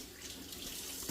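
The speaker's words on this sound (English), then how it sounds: "I just put a little water over it, turn it off, mix it by hand." Tap water pours steadily over frozen potting soil, a continuous close, even rush of running water with no voices.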